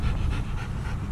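A dog pants rapidly and rhythmically close by, with quick breathy puffs repeating steadily and nothing else over them.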